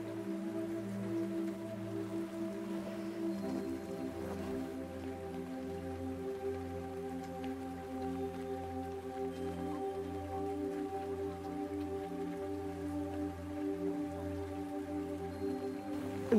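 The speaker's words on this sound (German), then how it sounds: "Es regnet." Rain falls steadily at a campsite by the Steinhuder Meer lake, an even continuous patter with a low constant hum beneath it and no voices.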